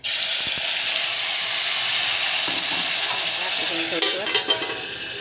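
Loud, continuous sizzling as hot tempering hits a pan of potato curry, with stirring clatter and a few spoon knocks near the end.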